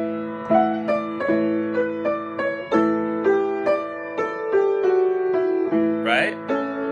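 A mandolin picks out a melody in clear, ringing plucked notes at a steady, moderate pace, close and solo, with a brief squeaky slide near the end.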